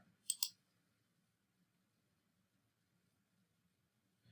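A computer mouse clicks twice in quick succession near the start, crisp and close, followed by near silence and a faint final click at the end.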